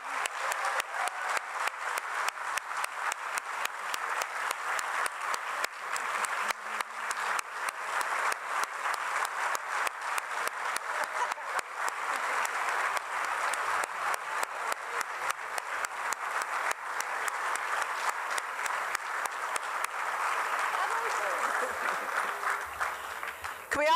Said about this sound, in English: can we give one big round of applause for all our recipients?